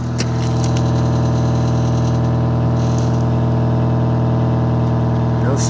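A 1993 Honda Civic with an automatic transmission idles steadily after its first start in two years, a smooth, continuous engine drone close by with no stutter and a faint background hum throughout.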